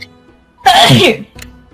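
A single loud, close sneeze bursts out after a short quiet breath, followed by a faint brief exhale.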